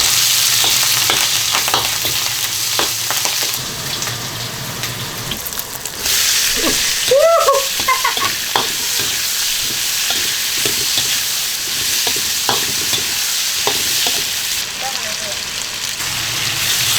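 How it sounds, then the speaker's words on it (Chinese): Cured pork (larou) stir-fried in a little oil in a wok, a steady close sizzle with stirring scrapes and clinks throughout, with brief talk partway through. "腊肉炒一下。"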